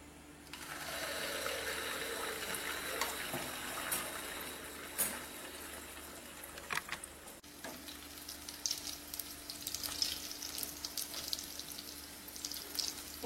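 Thick batter fries in hot oil with a steady, close sizzle and crackle lasting the whole stretch, dense and even with small popping bursts, and no voices over it.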